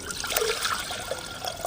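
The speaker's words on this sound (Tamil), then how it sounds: "ஒரு அரை சொம்பு தண்ணி," Water is poured from a small vessel into a cooking pot set on a lit stove for gooseberry rasam: a soft, steady trickle that runs on without a break, fairly quiet and heard alone.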